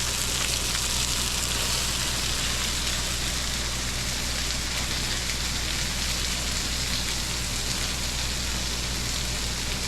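Blackened snapper fries in a frying pan with a dense, continuous loud sizzle and crackle, steady throughout with no pauses.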